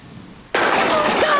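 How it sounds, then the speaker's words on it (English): A sudden crash of thunder breaks in from near quiet, followed by a loud sustained rumble and rain-like wash in a children's animated thunderstorm scene. "A little bit of thunder is nothing to worry about."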